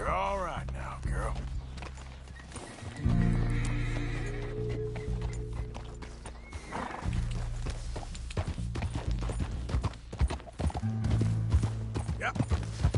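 Horse hooves clip-clop along with a whinny in the game Red Dead Redemption 2, the hoof beats steady and moderately close, with a voice speaking softly over parts of the scene.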